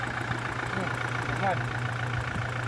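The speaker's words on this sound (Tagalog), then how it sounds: "kita natin na medyo kurug-kurug pa talaga yung engine" A 2020 Toyota Innova engine idling roughly, a low steady rumble with slight unevenness, close by and partly under someone talking.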